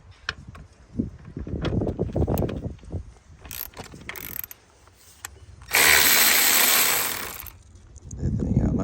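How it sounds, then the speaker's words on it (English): A ratchet wrench removing the battery hold-down bolt on a 2019 Hyundai Sonata, heard as rapid pawl clicking and metal scraping in bursts, including a sustained loud whirring stretch, with mechanical rumbling between strokes. "Just taking the bolt off."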